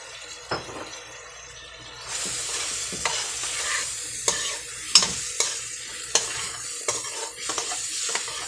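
Spice mix for chicken biryani sizzles in a hot pan while a spoon scrapes and clinks against it in a steady, rhythmic series of close strokes.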